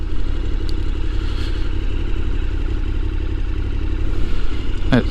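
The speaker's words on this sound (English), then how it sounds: "turn the bike off for a second" A motorcycle engine idles and runs steadily beside a beach on a day trip around the Yorke Peninsula, a continuous low rumble with a brief rattling clatter near the end and no talk.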